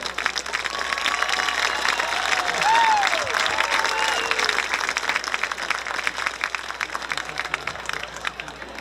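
Crowd applauding at a high school football game during an Athletic Hall of Fame ceremony, steady sustained clapping from a large stadium audience with some cheering, lasting throughout.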